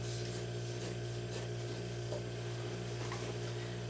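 Scissors or a blade cutting across thick flat felled seams of denim jeans, giving a steady rasping, rubbing texture with repeated scrapes close up, and no talk.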